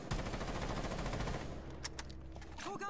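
Rapid automatic gunfire hammering a wall in Rainbow Six Siege, a continuous loud stream of shots for about a second and a half before tapering into scattered impacts and debris.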